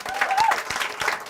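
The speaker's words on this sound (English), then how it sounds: "big round of applause for the organizing committee" An audience at a showcase event gives a brief burst of applause for the organizing committee, dense clapping from a crowd with a faint voice mixed in.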